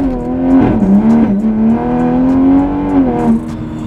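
Toyota Supra engine revving hard under acceleration on cold pavement, a loud, steady drone that rises and dips as the tires struggle for grip.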